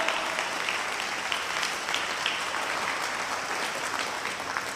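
A congregation at a Christian worship service claps loudly and continuously, a thick, even roar of hands that holds steady for the whole few seconds.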